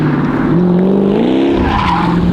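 Car tires skidding and squealing as the car slides, a loud continuous screech with a rising and falling pitch, close by and with no talk over it.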